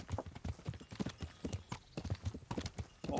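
Horse hooves clip-clop steadily on the ground in the medieval game Kingdom Come: Deliverance, a brisk, even riding rhythm that stays close and moderately loud, with a faint snort near the end.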